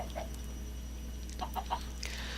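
Chickens in a Minecraft-style video game give a few short, soft clucks over a steady low hum, sparse and faint with no talking.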